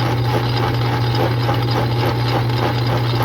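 Restored 1940s metal lathe running at slow speed gives a steady, loud motor hum with a low tonal drone and faint mechanical rubbing, continuous and close, with no talking.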